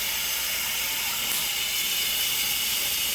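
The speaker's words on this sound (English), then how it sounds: "Then it goes to a more softer spray of that." Water from a matte black Brantford shower head on a softer spray setting, a steady bright hiss that stays even and close throughout with no talk.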